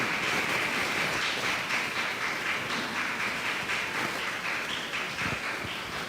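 Church congregation clapping during a service, a soft, steady, rain-like patter of many hands that continues evenly at a distance for several seconds.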